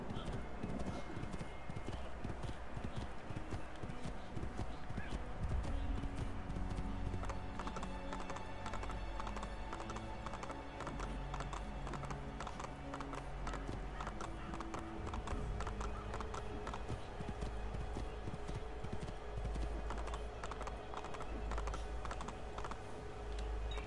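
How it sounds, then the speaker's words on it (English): Rapid, rhythmic clip-clop of horse hooves on a brick road in the video game Assassin's Creed 2 continues throughout, with a brief whinny and light clicking tapping underneath. "running with the horse and the grass and the brick road would be good ASMR"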